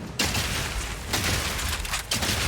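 Grenade skill firing in Path of Exile 2, heard as dense bursts of explosive game gunfire and booms layered in quick volleys, loud and continuous with a brief lull before another burst.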